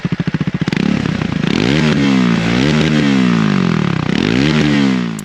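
Triumph Scrambler 400X single-cylinder motorcycle with a different exhaust, loud and close: a few sharp idle pops, then repeated throttle revs rising and falling in pitch, with no talk.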